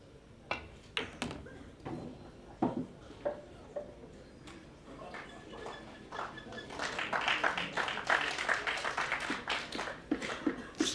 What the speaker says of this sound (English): Sporting applause, albeit sporadic, from the crowd here.